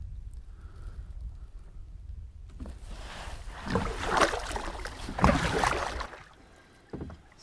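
A kayak glides across a lake: quiet ambient water and breeze, then a stretch of louder splashing and swishing paddle strokes building and fading, with a last short splash near the end, no voices.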